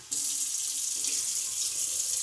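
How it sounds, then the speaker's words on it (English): Hot water runs steadily from a kitchen tap over broccoli, a close, even hiss of flowing water that holds unbroken from start to finish. "We're going to run the hot water over the broccoli."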